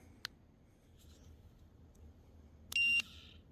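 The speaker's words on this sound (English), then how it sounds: "Just one quick little beep," A short, sharp beep from an ultrasonic dog bark deterrent with three sonic emitters, sounding once near the end at night, loud and close against a quiet background.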